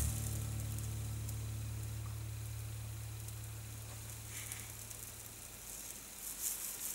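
Homemade pancakes fry four at a time in a pan, giving a steady, soft sizzling hiss that fades slightly over time. A low hum sounds briefly at the start.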